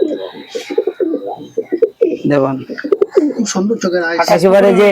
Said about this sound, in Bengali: পুকুর থেকে ডাইরেক্ট আনা পায়রাটা দেখুন